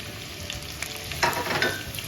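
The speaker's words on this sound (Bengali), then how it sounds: "অন তেল গরম হয়ে গেছে আমি অন পেঁয়াজ দিলাম পেঁয়াজ দিয়া ও রসুনের পেস্ট" Onion and garlic paste frying in hot oil, a close crackling sizzle that swells with a few bursts of stirring near the end, with no voices.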